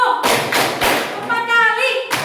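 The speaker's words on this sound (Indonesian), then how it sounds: "3 kali tepuk" A group of children claps their hands three times in quick succession, each clap a sharp, full burst close to the listener, followed by a voice speaking.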